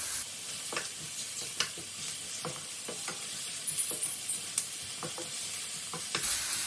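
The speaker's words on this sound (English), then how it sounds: "Now add all the onions and pepper into the pan and fry it on full flame." Onions and peppers stir-frying in a pan over a full flame, a steady sizzle broken by repeated scraping stirs at an uneven rhythm, close and moderately loud with no talking.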